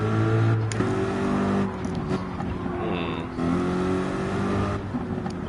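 Corvette race car engine in Gran Turismo 7, a steady droning engine note holding and shifting pitch as the car brakes and turns into a corner, fairly loud and continuous.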